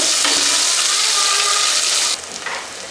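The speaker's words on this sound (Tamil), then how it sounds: "ஆனியனை போட்டு ஒரு ரெண்டு நிமிஷம் நல்லா சாட்டே பண்ணிக்கோங்க" Onions sautéing in a pan for chicken curry, a steady broadband sizzle close up that drops sharply near the end, with a brief stir and clink.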